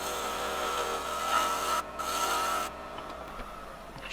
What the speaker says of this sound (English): Pointy gouge to give us our dovetail.